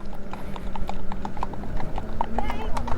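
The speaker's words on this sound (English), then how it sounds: "Horses in the road" Horses' hooves clip-clop on a paved road in a quick, steady rhythm, heard close by beside a quiet electric 2021 Zero SR/F motorcycle, with someone talking over them.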